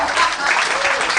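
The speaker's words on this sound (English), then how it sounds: "Everybody was applauding." A live comedy-show audience claps in a steady, dense wash of applause that holds loud and even from start to finish, with no voice rising above it.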